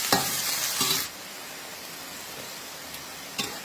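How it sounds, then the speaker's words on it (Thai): Lotus seeds are stir-fried with minced pork in a pan, giving a close hiss with bursts of scraping and clatter as the spatula moves, then a quieter steady sizzle and one more brief scrape near the end. "ผัดไปเรื่อยๆจนกว่า ไข่บัวจะยุบ"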